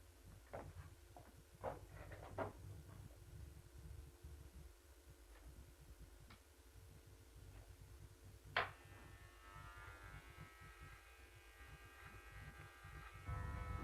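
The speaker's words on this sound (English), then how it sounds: "Still using the number 1 guide, just trimming off the moustache." Electric hair clippers fitted with a number 1 guide trim a man's moustache, giving a faint, steady low buzz with brief pauses and small strokes throughout, close and quiet.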